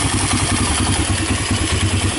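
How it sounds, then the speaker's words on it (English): A Honda TRX300EX ATV engine idles close by in a steady, throbbing, slightly uneven chug with a clattery mechanical edge, running continuously without pauses or talk. "even idling it way down"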